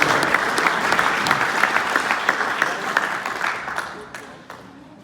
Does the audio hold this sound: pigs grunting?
no